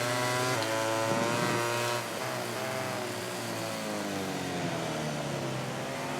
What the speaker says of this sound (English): Definitely a bit more of the Honda engine than Ducati behind now.